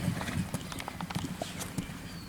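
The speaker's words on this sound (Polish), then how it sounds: "Siadamy w siodło, przykładamy prawą łydkę, galop." Horse's hooves in a rhythmic canter-gallop during riding-school training of a young jumping horse, a steady series of close, dull thuds with faint creaks.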